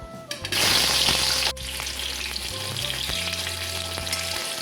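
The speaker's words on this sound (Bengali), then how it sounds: "এই তেলেই আমি বেগুনগুলো ভেজে নেব।" White eggplant fries in oil, a close crackling sizzle that flares loudly as pieces hit the pan, then settles into a steady hiss with light clinks, no voices present.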